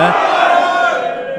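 Crowd at a darts money match roars with sustained cheering and shouting, a dense, loud wall of voices holding steady before easing slightly toward the end.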